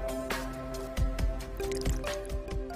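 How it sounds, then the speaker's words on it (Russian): Mongolian mushrooms being stirred in water for soup, with close wet squishing and dripping sloshes repeating in an uneven rhythm over a faint background hum. "добавьте воды и продолжайте помешивать"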